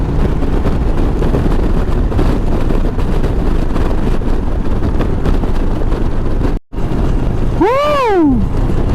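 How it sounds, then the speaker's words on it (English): Steady, loud wind roar buffeting the microphone while riding a Harley Street Glide ST at night, broken by a brief dropout and followed by a rising whoop from the rider. "that wind is exhilarating"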